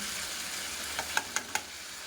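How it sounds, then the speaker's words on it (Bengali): Spices sizzling in hot oil with vegetables make a soft, steady hiss, with a few quick clinks of a spoon or pan near the end. "এবার দিয়ে দেবো মশলাটা"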